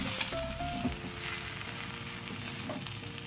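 Cumin powder and whole spices fry in ghee with a steady, soft sizzle as they are stirred and turned in the pan, and a few faint clinks can be heard.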